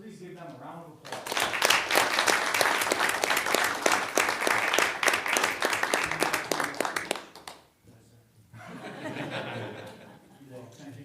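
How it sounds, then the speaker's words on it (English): An audience at a regular city mayor and council meeting bursts into loud, full applause mixed with chuckles and laughter for several seconds, then it fades and someone begins talking. "Please give them a round of applause."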